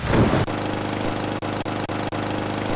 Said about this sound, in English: I wouldn't be able to hear this sweet lawnmower noise